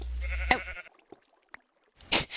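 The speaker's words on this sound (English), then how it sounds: "So, a sheep walks into a bar. Can we push him out?" Sheep bleating in the Minecraft video game: a short, close bleat at the start and another two louder bleats near the end, with small clicks between them.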